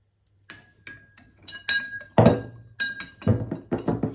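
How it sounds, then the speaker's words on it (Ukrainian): A spoon clinks repeatedly against a glass or ceramic bowl in an uneven stirring rhythm, dissolving salt and sugar, crisp and close, with no talking. "Гарненько замішуємо, щоб сіль і цукор розчинились."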